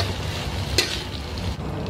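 Fried tofu and tempeh with onion being stirred in a hot pan, a steady close sizzle with one sharp scrape of the spatula partway through.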